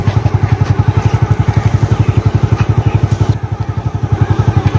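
A motorcycle engine runs close by with a steady, rapid low thumping pulse throughout, on a setting where a rider is about to cross a narrow bridge or pole for a bet.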